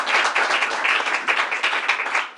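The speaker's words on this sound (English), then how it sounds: "So let's give another round of applause to Angela Terry, the owner here." Audience at a governor's announcement event in a restaurant clapping, a close, dense round of applause that holds steadily throughout.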